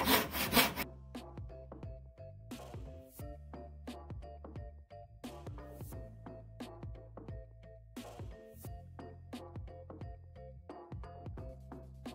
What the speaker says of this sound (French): Maintenant, il élimine les bouts qui dépassent. On appelle ça affleurer sur la traverse.